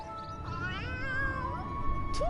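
A cat in the Final Fantasy XIV video game gives a drawn-out, wavering meow over a low, steady game background hum, faint and unaccompanied by talk.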